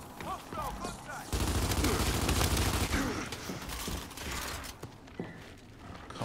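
Shotgun and weapon fire in Gears 5 multiplayer, a loud sustained stretch of rapid blasts and mechanical clatter amid busy game noise, tapering off toward the end.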